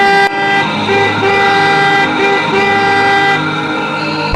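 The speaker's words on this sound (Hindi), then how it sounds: "अगले दिन उसी रास्ते पर एक व्यापारी अपनी गाड़ी लेकर आ रहा होता है कि तभी उसकी नजर जमीन पर लेटे हुए सुशील पर" A merchant's vehicle on a road sounds a loud, sustained horn blast lasting several seconds, steady and close, with engine rumble underneath and no talking.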